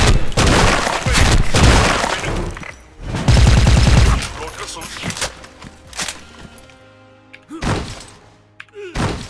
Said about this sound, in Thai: เราลองยิงบอทนะครับ กี่นัดตาย สองนัดตาย